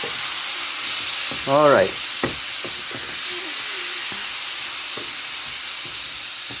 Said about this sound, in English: We are now just sauteing the tomatoes a little bit